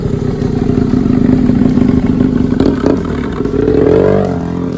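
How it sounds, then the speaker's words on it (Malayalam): A BMW motorcycle's boxer engine runs loud and close, with a dense, steady throb. It swells briefly in a rev near the end. "ആ എൻജിൻ്റെ പേരാണ് ബോക്സർ എൻജിൻ"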